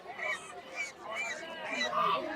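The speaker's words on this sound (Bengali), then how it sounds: "এই যে এখানে দেখতে পাচ্ছি দুটি রাজহাঁস।" Two domestic geese at a village poultry market honk in repeated bursts, close and fairly loud, with market chatter and other fowl faintly around them.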